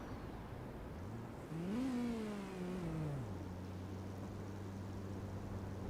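The rotary engine of a Mazda Cosmo in Forza Horizon 4 revs up sharply, holds a high buzzing pitch, then drops back to a steady smooth idle, sounding close and constant without any talking.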